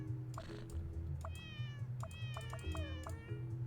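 A cartoon cat in a puzzle video game meows each time it is clicked, several short bright meows in quick irregular succession over a low steady background hum.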